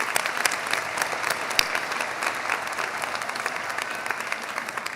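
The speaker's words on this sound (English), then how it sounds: "give you all a round of applause for this amazing work" A seated audience at a social work graduation pinning and hooding ceremony applauds the students, a dense, sustained burst of many hands clapping, fairly close and continuous throughout.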